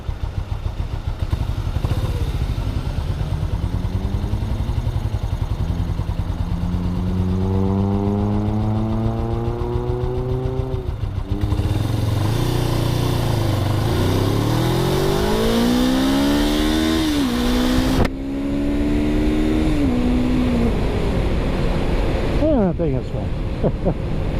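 A Suzuki GS500 motorcycle rides along with its engine repeatedly revving up through the gears, pitch climbing and dropping between shifts, under constant wind rush, while a rider talks over it.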